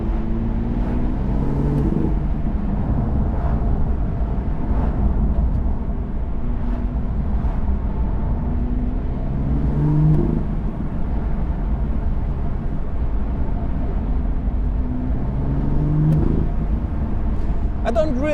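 A BMW exhaust with its valve closed drones steadily, with a few brief rising revs spaced apart, while someone talks over the constant engine hum.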